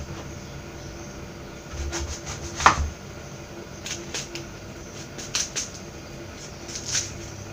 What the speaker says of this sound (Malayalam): ആദ്യം തന്നെ കടച്ചക്കയുടെ തൊലിയൊക്കെ കളഞ്ഞ് ചെറുതായിട്ട് കട്ട് ചെയ്തെടുക്കാം